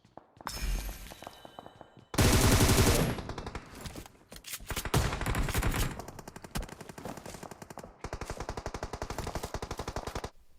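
Automatic gunfire from an M762 rifle in a mobile battle royale shooter, loud rapid bursts separated by short pauses, with one long dense burst early and a steady rattling stream near the end.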